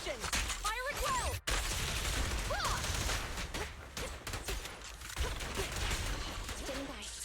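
Video game gunfire, rapid bursts of shots with sharp crashes and whooshes layered throughout, moderately loud, with voices speaking over the action.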